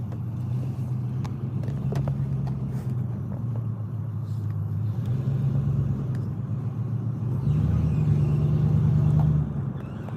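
A rough-running car engine with no hood or bumper grumbles low and steady after stalling, its uneven rumble building slightly toward the end with no talking.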